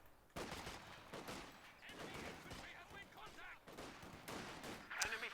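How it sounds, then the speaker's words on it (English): MG42 machine gun fire in Company of Heroes 2 aimed at a rifleman squad, rapid bursts and explosions layered over continuous battle noise with a commentator talking throughout. "So MG42 gets set up in a lovely position here, catches a squad of riflemen immediately under the arc"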